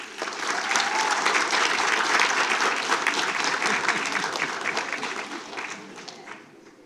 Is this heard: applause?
yes